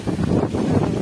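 Strong seaside wind at Mandarmani, on the coast near a cottage hotel after a night of heavy storm, roars and buffets loudly against the microphone in a continuous rumble.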